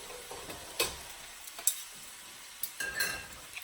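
Chopped vegetables for chunky homemade spaghetti sauce hit a hot pot and sizzle while a spoon stirs, with a few sharp scrapes and clinks over a soft frying hiss, close and fairly quiet.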